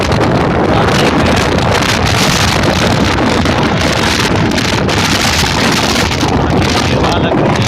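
Heavy wind rushes steadily past a microphone on a moving motorcycle, a loud, continuous roar with no break throughout.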